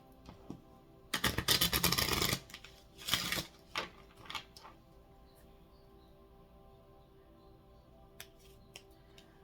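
A deck of tarot cards is shuffled hard in two loud bursts of quick riffling and snapping, followed by softer scattered card taps and handling in a quiet room.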